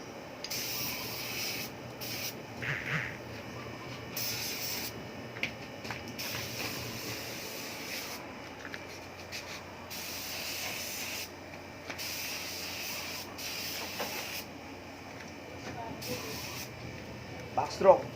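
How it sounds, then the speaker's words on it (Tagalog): Spray gun applying paint to a car body in a home repair, repeated hissing bursts of a few seconds each with short pauses between, a faint murmur of talk in the background. "Tuturuan ko kayo kung paano pag-spray ng sasakyan"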